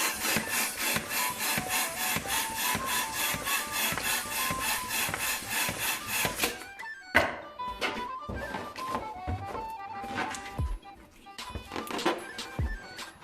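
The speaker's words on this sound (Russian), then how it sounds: "Теперь надуваем сердечко на 12 качков." A hand pump inflates a modelling balloon into a heart shape, about a dozen rhythmic rasping strokes coming fast and close, then quieter handling sounds and squeaks as the balloon is worked.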